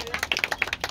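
An audience claps for the rappers at a freestyle rap battle, with quick, uneven bursts of hand claps at close range filling the brief moment.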